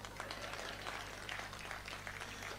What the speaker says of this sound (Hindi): तालियां बजाओ यहां पर।